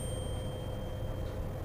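A second 512 hertz tuning fork rings with a quiet, pure sustained tone and faint higher shimmer, holding steady before cutting off abruptly.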